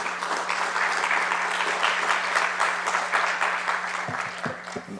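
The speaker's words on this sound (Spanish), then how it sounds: "Le brindamos un fuerte aplauso" An audience at an administrative law conference applauds warmly, a sustained patter of clapping that thins out toward the end as a few last claps linger.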